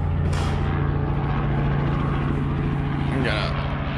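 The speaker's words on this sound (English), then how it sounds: "We got a Robinson helicopter coming in." A Robinson helicopter comes in at an airfield, a steady rotor and engine drone throughout with a low pulsing thrum, heard at moderate distance in a noisy outdoor setting.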